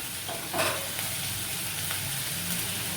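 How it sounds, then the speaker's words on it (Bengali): Onion and garlic frying in a pan for a kakrol posto dish, giving a steady close sizzle with a few faint stirring scrapes and no talk. "এখন পেঁয়াজ রসুন সব ভাজা হয়ে গেছে"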